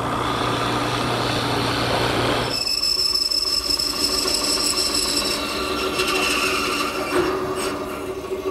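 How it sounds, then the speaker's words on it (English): A drill with a 7/8 inch bit boring dowel holes in wood, a loud grinding whine that shifts to a higher, steadier drone with rough chatter throughout. "After changing to a 7/8 inch diameter bit, I'm now drilling holes for the dowels."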